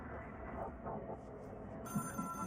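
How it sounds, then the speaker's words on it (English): Telephone ringing inside the video game Control, a steady electronic ring that stays at a constant level, with a brighter synthetic tone joining near the end over low game ambience. "I hear the phone. You don't have to keep ringing."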